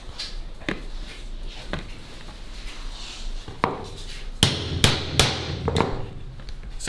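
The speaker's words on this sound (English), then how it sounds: "I'm gonna start riveting now" Rivets are set through Kydex sheath pieces fitted around a hunting knife with sharp, close hammer strikes, a few spaced blows early and then a quicker cluster of louder hits near the end, with no talking.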